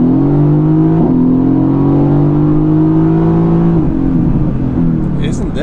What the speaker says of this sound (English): This sounds like a sports car.